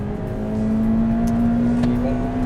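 Honda Civic Type R engine holding a steady, loud drone while downshifting in sixth gear, a continuous near engine tone with slight rises and no voices.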